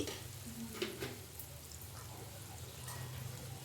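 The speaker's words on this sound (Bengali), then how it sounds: "দিলাম টমেটো পিউরি দিয়ে আমি কষে নিচ্ছি" Tomato puree and spices cook in hot oil in a pan for a vegetarian potato and green jackfruit dalna. A soft, low frying hiss runs throughout, with a few faint stirring touches and no speech.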